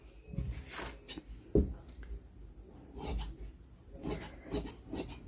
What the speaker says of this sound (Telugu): ఫస్ట్ ఇది సమానంగా కట్ చేసుకుందాం